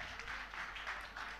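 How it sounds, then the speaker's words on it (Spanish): Audience applause for a rapper at a freestyle battle competition, a steady wash of clapping held at moderate loudness for the whole moment, slightly distant and without a clear break. "Quiero aplauso para el Fusok."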